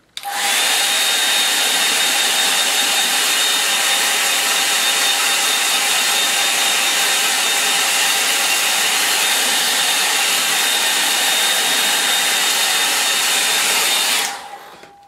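A hair dryer blows steadily on a wet landscape painting of trees for about fourteen seconds, loud and close with a constant whine, then cuts off abruptly near the end.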